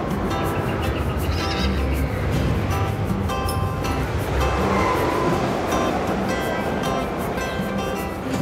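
Horses whinny amid a busy, noisy crowd at the Cedar Point amusement park, with hoof clatter and general bustle underneath and no clear talk.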